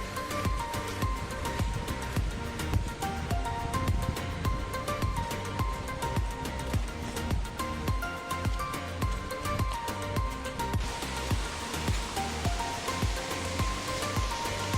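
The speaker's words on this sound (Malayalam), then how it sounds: "ഇവിടെ ഒരു ചെറിയൊരു വെള്ളച്ചാട്ടം ഉണ്ട്" Dhoni waterfall in Palakkad, Kerala, pours in a steady, broad rush of falling water, moderately distant and unbroken, with no voices.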